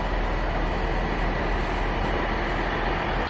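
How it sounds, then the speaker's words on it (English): A Merseyrail train pulls into a platform at Chester station, a steady, loud broadband rumble and rail roar that holds evenly throughout with no voices. "I'm just at Chester station at the moment, waiting for my first train to come in"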